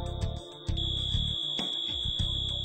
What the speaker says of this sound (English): The system sounds a second alarm and begins a 30-second